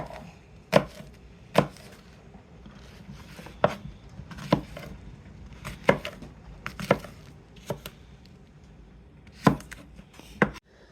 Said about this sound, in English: Literally just chopping up the apples.